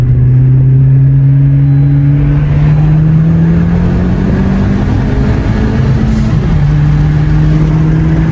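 A lowered 2020 Honda Civic Sport pulls hard from low speed, its engine note climbing steadily and loudly with a brief dip at a gear shift before rising again, heard close from inside.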